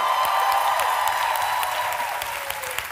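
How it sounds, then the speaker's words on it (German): An audience at a live music-quiz show gives a round of applause, with many people clapping in a dense, loud wash that fades slightly toward the end. "Riesen Applaus für Kyla!"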